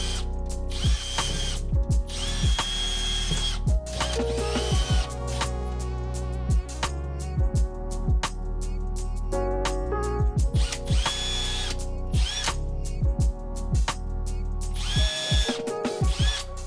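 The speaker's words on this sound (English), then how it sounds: "So now I'm going to drill the necessary holes." A drill bores holes in a BMW M Performance pedal for an F80 M3, producing a continuous whirring grind with repeated ratcheting, mechanical bursts throughout. The sound is loud and close, with no talking.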